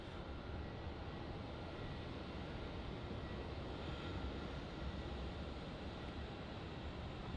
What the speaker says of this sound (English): And here we have the Qantas 717 from Canberra, QF 1511.